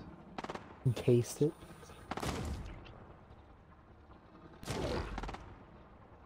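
Bursts of video game gunfire in a first-person shooter match, a few sharp shots early and two heavier volleys later, with a player talking briefly over the action.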